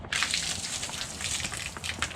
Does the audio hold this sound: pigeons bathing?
no